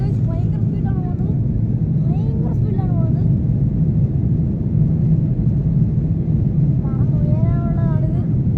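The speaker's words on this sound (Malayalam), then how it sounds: "ഫ്ലൈറ്റ് എടുത്തു ടേക്ക് ഓഫ് ചെയ്യാൻ പോണു" Jet airliner accelerating down the runway for takeoff on a flight to Oman, a steady loud low-pitched engine roar filling the cabin throughout, with people talking intermittently over it.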